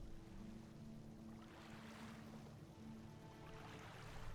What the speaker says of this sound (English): There's a water sound effect here that I don't think I've ever heard almost anywhere else